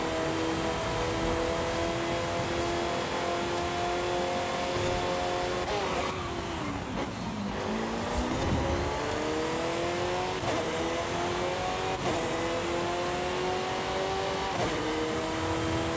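A Lotus Elise GT1 engine in Forza Horizon 5, loud and steady throughout, with rising and falling revs as it accelerates and shifts through gears, a sharp dip and recovery midway, and faint tire noise underneath.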